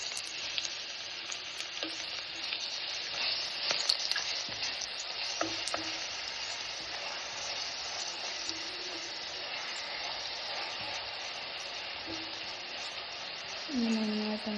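Ginger, garlic, shallot and green chilli paste frying in a pan for a fish curry, giving a steady close sizzle with occasional stirring scrapes and no voices.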